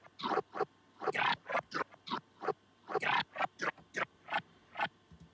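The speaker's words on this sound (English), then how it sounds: "This last one, it is a growl that I've put into Logic's sampler" Growl bass sample played back through Logic's sampler for a future house drop, a series of short, punchy, vocal-like growl notes in a choppy rhythm, close and dry, with brief gaps between hits.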